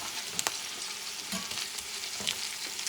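A petite sirloin steak fries in a pan with a steady, soft crackling sizzle, punctuated by a few brief louder pops and spatters, with no talk over it.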